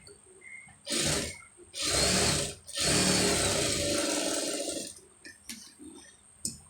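A sewing machine runs close up, stitching a folded sleeve seam in three bursts: a short one, a longer one, then a sustained run of about two seconds, with quiet handling noises between and after.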